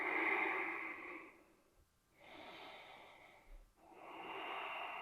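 Slow, audible breaths during a yoga stretch, drawn in and out in long airy waves with a brief pause between them, close and alone without talk.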